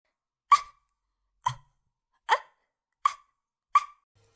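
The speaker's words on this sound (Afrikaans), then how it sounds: "Ek kan nie ophou hik nie." Five sharp, separate hiccups sound close by at roughly even intervals of under a second, each a short abrupt gulp with silence between them.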